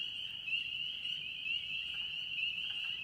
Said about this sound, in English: They're frogs.